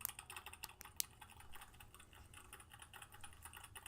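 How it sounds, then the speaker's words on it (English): Rapid typing on a computer keyboard gives fast, uneven clatter of close key clicks with one sharper keystroke, fairly quiet and with no voices. "The real way to do this is to go to hackertyper.com and start hacker typing."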